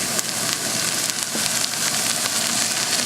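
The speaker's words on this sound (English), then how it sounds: "So I'm going to saute this" Cleaned, rinsed leeks sauteing in a soup pot, giving a steady, dense sizzle and crackle that runs evenly throughout, close and fairly loud with no talking.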